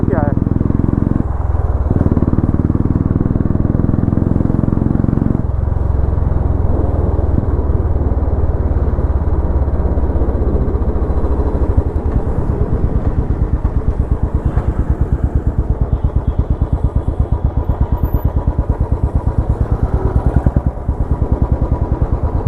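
A Royal Enfield Bullet motorcycle fitted with an aftermarket exhaust idles loud and close at a service workshop, its steady thumping beat running throughout with a few rev changes, while people talk over it.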